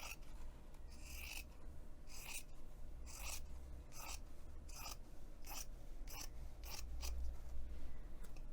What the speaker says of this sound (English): I'm also going to trim down that seam that I just sewed.